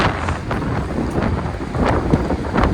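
Strong wind gusts buffet the microphone on a winter seafront at Lazarevskoye, a loud, continuous roar with periodic surges and no voices.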